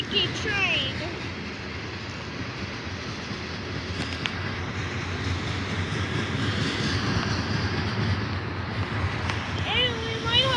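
A trash train passes close by in Cresson, a continuous rumble and rolling clatter of rail cars with faint squeals of wheels, while people talk over it.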